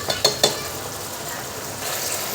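Onions sizzle steadily in hot oil in a wok as ginger garlic paste goes in, with a few quick clinks of a spatula against the pan early on before the even frying hiss continues.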